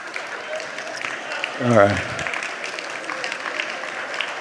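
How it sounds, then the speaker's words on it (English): Polite audience applause during a church retreat talk, a light patter of clapping that swells briefly in the middle while a voice speaks over it. "Polite applause, yes, we'll take it."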